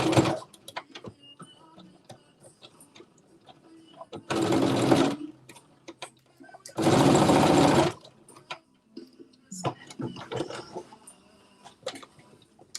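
A domestic sewing machine back-stitches a seam with a 5/8-inch allowance, running in two short, close, loud bursts of rapid whirring, separated by quieter handling clicks and rustles.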